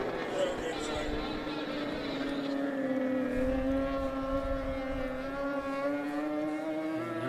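A four-cylinder racing boat engine drones as it passes on the river at the Defiance, Ohio boat races, its pitch sliding steadily downward, while an announcer talks over it.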